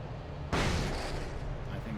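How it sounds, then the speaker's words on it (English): A flashbang grenade in Alan Wake Remastered goes off with a sudden loud blast, followed by a sustained ringing, hissing wash that lingers and slowly fades. "Flashbang!"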